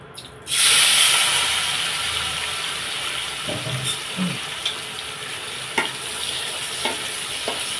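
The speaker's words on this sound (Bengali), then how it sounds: "তেলে ধোঁয়া উঠছে, চিংড়ি মাছটাই ভেজে নেবো আধ ভাজা" Prawns drop into smoking-hot oil with a sudden loud sizzle that settles into a steady crackling hiss, broken by occasional stirring clinks and pops.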